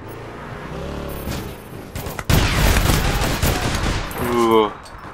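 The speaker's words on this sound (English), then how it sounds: "I'm getting shot at" Bursts of game gunfire in APB Reloaded, a loud sustained volley of rapid shots crackling for several seconds after a quieter lead-in, with voices talking faintly underneath.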